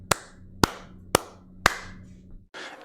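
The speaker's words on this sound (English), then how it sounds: "Can we just give a clap to Brad right there?" Four sharp hand claps ring out at an even, unhurried pace in applause for Brad, each crisp and close, followed by a short burst of muffled noise.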